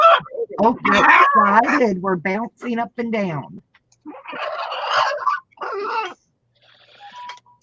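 A blue and gold macaw makes excited, chattering vocalizations close by, in several bursts, with a person talking to the bird between them.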